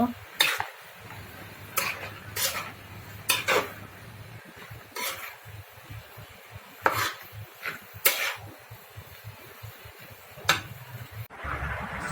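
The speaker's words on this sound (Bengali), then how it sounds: "পুঁই শাকটা আমি ঢেলে দিলাম এখন আমি ভালো করে কষাই নেব" Malabar spinach (pui shak) with ground coriander, cumin paste and turmeric paste is stir-fried in a pan. Repeated scraping and clinking strokes of the spatula come close and fairly loud, with a low background hum.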